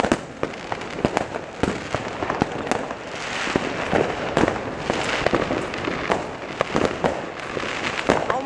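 Shortly after midnight on New Year's, fireworks go off all around a farm, sharp bangs and crackling bursts at varying distances, some close and loud, over a continuous rumbling backdrop of distant explosions.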